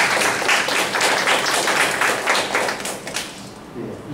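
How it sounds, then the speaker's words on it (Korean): Lecture audience applause at a university colloquium fills the room as a steady wash of clapping that slowly thins toward the end, with a voice speaking faintly underneath. "다시 한번 박수로."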